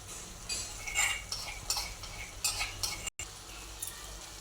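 Garlic red chilli paste stirred in hot oil for a Kathiyawadi ripe-cucumber curry: a quiet sizzle with several light spoon scrapes and taps against the pan, close and soft, without talk.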